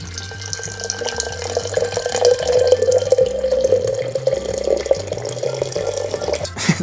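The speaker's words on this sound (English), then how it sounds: "we're gonna get some water in the jar" Boiling hot water is poured into a jar for pickling tomatoes, a continuous rushing, splashing stream lasting several seconds over low background music.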